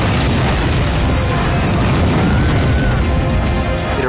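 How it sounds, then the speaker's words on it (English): A fighter jet crashes at an air show and erupts in a massive fireball, a loud, sustained roaring blast with rumbling debris that fills the whole stretch without pause. "It erupts in a massive fireball"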